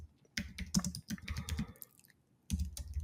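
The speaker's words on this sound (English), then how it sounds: "I'm gonna see if I can type my email there" Quiet clicking keystrokes on a computer keyboard while an email address is typed, in short bursts separated by brief pauses, close and soft.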